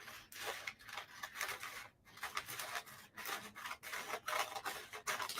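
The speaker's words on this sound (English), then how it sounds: "I'm going to cut these off right here." Scissors cut the borders off decoupage paper with repeated crisp snipping and rasping strokes in an irregular rhythm. The sound is close and there is no talk.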